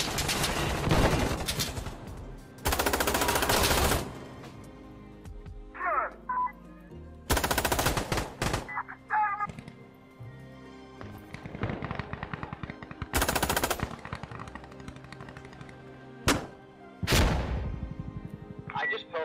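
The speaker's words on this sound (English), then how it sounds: "I just pelted a dude with my entire magazine and not a single bullet hit him" Shotgun blasts and automatic gunfire in Insurgency Sandstorm, with several loud, sharp bursts of shooting spread through the stretch, some close and booming, separated by quieter gaps with game noise and occasional voice.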